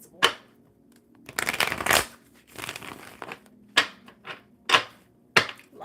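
Tarot cards are shuffled by hand in repeated bursts of riffling and snapping, with short pauses between shuffles, close and clear with no speech.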